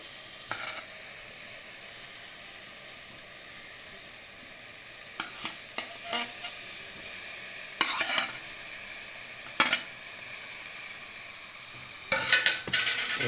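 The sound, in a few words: eggs and potatoes sautéed with spices in a pan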